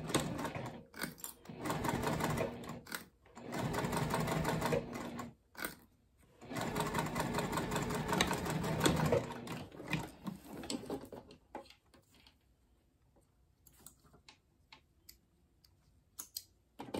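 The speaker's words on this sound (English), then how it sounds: "Now I like to start sewing my straps on the side that's open" A sewing machine with a size 18 needle and stitch length 4 stitches backpack strap anchors in several steady mechanical runs with short pauses, then falls to sparse clicks near the end.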